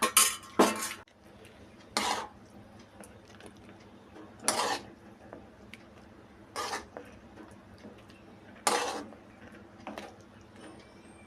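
Metal spoon scraping and clinking against a pan as pumpkin erissery is served into a vessel, a handful of separate bright clinks spaced a second or two apart over quiet background.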